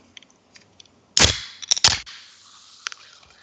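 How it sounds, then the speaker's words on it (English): Pop-top can of sparkling water cracked open up close, a sharp snap followed by a quick fizzing hiss that fades over a second, with a few faint clicks before and after and no voices. "10 being the best pop top you ever heard in your life."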